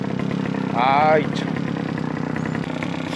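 A two-stroke weed brush cutter running on a roughly mixed oil and gasoline ratio, a steady buzzing idle throughout with a brief rev, while someone speaks briefly in Korean over it.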